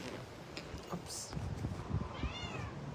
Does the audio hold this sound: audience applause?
no